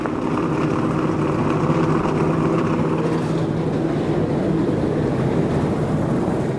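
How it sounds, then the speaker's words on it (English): Stock truck engines in NASCAR Racing 2003 firing up together at Trenton, a dense, steady, loud rumbling drone of idling motors with no pauses. "Drivers, start your engine!"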